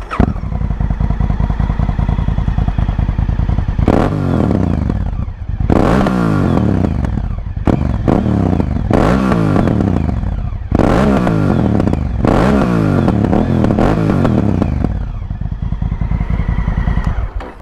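A Honda Africa Twin motorcycle engine, picked up by a microphone in the helmet chin bar, revs hard again and again, loud throttle blips rising and falling between steady idling, close up and with no talk.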